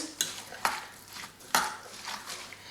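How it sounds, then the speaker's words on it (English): Spoon scraping and knocking against the pot as pickle ingredients with salt and spices are stirred in a slow cooker, a few distinct clunks amid soft wet mixing, close and fairly quiet. "And then I'm just going to mix this round."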